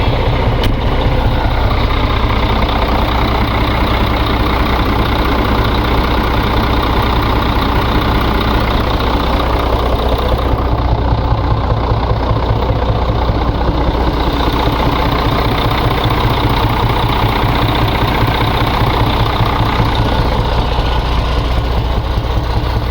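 A Mercedes-Benz 12.8 diesel truck engine idles steadily just after startup, a loud, continuous low rumble with even mechanical knock that holds throughout, no talking.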